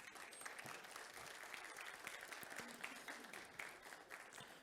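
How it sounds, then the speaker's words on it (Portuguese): Sustained applause from a seminar audience during a panel session on new technologies for the Pinheiros River, a dense steady wash of many hands clapping at moderate level, no talk over it. "a quem eu peço uma salva de palmas"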